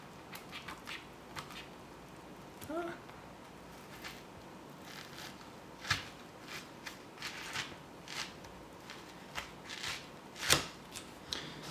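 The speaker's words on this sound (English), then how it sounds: "And then we're going to cut it in half." Small knife slicing through okra on a cutting board, a run of quiet, scattered cuts and taps with a few sharper knocks, faint and close with no talking.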